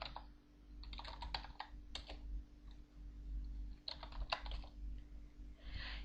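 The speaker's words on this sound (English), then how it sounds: "Typing list in this room," Keys on a computer keyboard typing commands into a text-based MUD game, coming in several quick bursts of clicks with short pauses between them and no talking.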